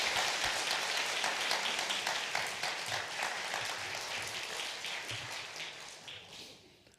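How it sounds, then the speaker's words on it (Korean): Church congregation clapping for the pastor during a Sunday service, a steady dense patter of many hands that holds evenly and then thins and fades toward the end. "박수합시다"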